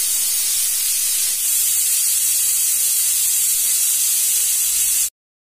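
A pressure cooker on the stove, cooking village-style mutton curry, lets out a loud continuous hiss of escaping steam that holds steady before cutting off abruptly.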